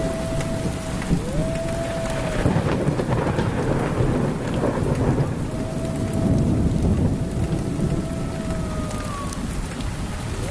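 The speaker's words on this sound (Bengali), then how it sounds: "অঝোর বৃষ্টি শুরু হয়ে গেল।" Heavy rain pours steadily at close range while thunder rolls and rumbles through it, with no voices present; a faint tonal hum drifts in and out above the downpour.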